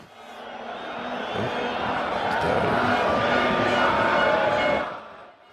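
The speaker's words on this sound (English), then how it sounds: "I'm adding crowd noise to the stream" Stadium crowd noise at a charity soccer match at BMO Field in Toronto, a broad murmuring roar that swells, holds loud and then fades near the end.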